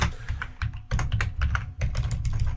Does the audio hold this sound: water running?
no